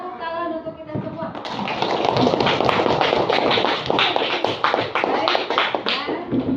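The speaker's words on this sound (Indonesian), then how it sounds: "Bisa tepuk tangan untuk kita semua." A classroom group claps together in a busy, fast patter of hand claps that swells after a spoken line and continues steadily for several seconds, fairly close and loud.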